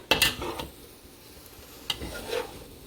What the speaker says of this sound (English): But there's my soy curls cooking up.